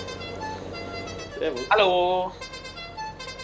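A vehicle horn sounds in the farming game Farming Simulator 19, a short honk that rises above ongoing talk between players, with voices greeting each other around it.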